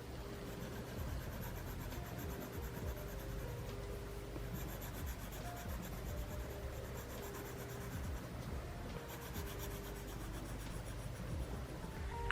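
Pencil writing on a memo pad, a faint continuous scratching and rubbing of graphite on paper, close and steady for about twelve seconds with no talking.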